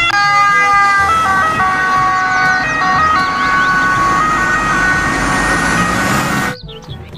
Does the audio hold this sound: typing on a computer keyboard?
no